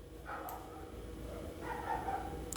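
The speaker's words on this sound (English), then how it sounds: "Lots of dogs in the area." Many dogs bark in the distance around Joinville, Brazil, faint repeated barks and yips over a low, steady background.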